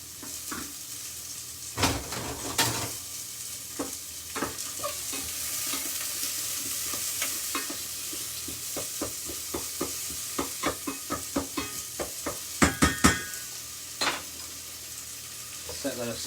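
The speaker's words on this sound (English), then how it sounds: "We also need some coconut oil to go in, just to fry those onions and those peppers off." Onions and peppers fry in about a teaspoon of coconut oil, a steady sizzle running throughout with repeated sharp scrapes and clacks of stirring in the pan, clustering near the end.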